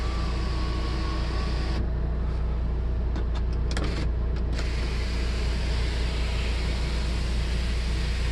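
Automatic sunroof on a 2012 Volvo XC90 opening inside the cabin, a faint electric motor whir over a constant low car hum, with a few brief clicks partway through.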